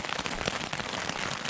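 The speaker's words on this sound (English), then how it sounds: "I can barely hear them over the rain" Heavy rain drums steadily and loudly on a lightweight summer tent during a camping trip on Dartmoor, a dense continuous patter of drops with no voices.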